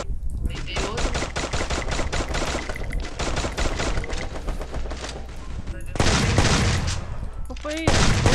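Rapid automatic gunfire in the Free Fire mobile battle royale game, sustained dense bursts of shots with brief pauses, loud and close, with players talking over it.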